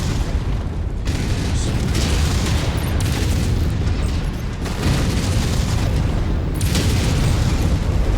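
Explosions of destroyed targets in a mech combat video game, heavy booming blasts rumbling through dense battle noise and weapon fire, with voices and radio callouts heard under it.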